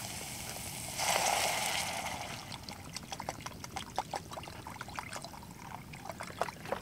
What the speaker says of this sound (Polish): zalewam wodą, żeby się już zaczęło gotować